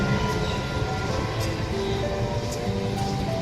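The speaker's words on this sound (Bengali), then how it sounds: "ট্রেনটা চলে গেল" Train passing by a station platform, a dense continuous rumble and rattle throughout with faint higher squeals, heard without talk.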